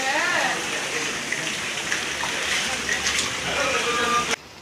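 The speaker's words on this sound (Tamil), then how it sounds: "கனமழை காரணமாக திருச்சி செஷன்ஸ் கோர்ட் காவல் நிலையத்திற்குள் மழை நீர் புகுந்தது" Heavy rain pours as rainwater floods into the Trichy Sessions Court police station, a loud, unbroken hiss of falling and rushing water that cuts off abruptly near the end.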